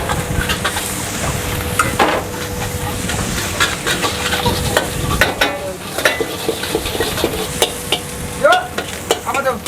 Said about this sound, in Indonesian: di sini gue bikin nasi goreng exo, di situ Inyong bikin nasi goreng kampung polos 2 porsi